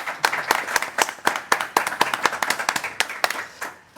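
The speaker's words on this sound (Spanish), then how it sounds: "Un fuerte aplauso para Domingo, por favor." Audience applause at a book colloquium, a small crowd clapping in a brisk, slightly uneven rhythm of sharp hand claps, close and clear, fading toward the end.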